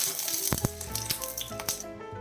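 Curry leaves, mustard seeds and dried red chilies crackle in hot oil with a bright, continuous sizzle broken by sharp pops and spits close by.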